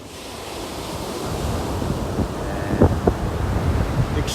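Strong wind roars steadily across an outdoor microphone as a hurricane approaches, a constant loud rumbling rush with a few heavier gusts buffeting near the end and no talking.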